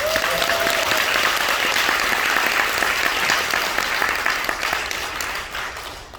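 Audience applause at a business recognition event, a steady wash of many hands clapping that holds for several seconds and then fades gradually toward the end.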